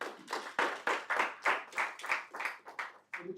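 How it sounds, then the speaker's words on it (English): A small audience claps at a business investment masterclass, a sparse, uneven run of about a dozen distinct hand claps, each sharp and separate, with a couple of faint murmurs near the end. "I think you should clap."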